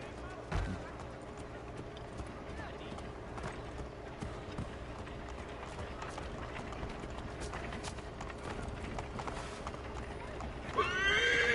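Horses neigh and whinny over clip-clopping hooves and a busy background in Assassin's Creed 3, with a sharp burst of noise near the end.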